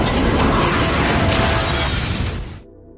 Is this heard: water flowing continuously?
no